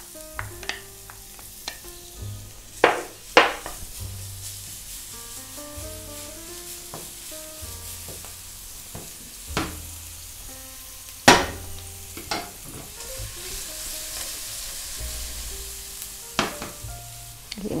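Garlic frying in a little oil alongside meat in a pan gives a soft, steady sizzle, broken by several sharp clinks and scrapes of a utensil against the pan, with quiet background music throughout.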